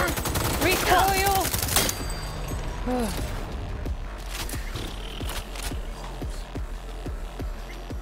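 Rapid gunfire from a weapon in Cyberpunk 2077 v2.0, opening with a loud dense burst, then scattered sharp shots and impacts continuing over game sounds and music for several seconds.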